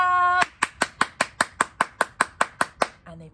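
Loud hand clapping in a children's music class: a sung note gives way to about twelve sharp, evenly spaced claps in a steady rhythm, close and crisp, followed by a brief voice.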